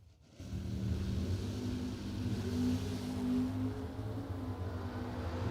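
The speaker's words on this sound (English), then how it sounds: "Parks right side, first gen machine. 69 Camaro dialed 521" A first-generation 1969 Chevrolet Camaro drag race car rumbles and revs at the start line, a loud, steady low engine drone that swells slightly as it builds.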